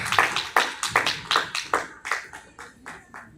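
A church congregation claps in praise, with loud, sharp handclaps in a steady rhythm of roughly three per second that gradually grow softer and thinner over a few seconds, with no talking.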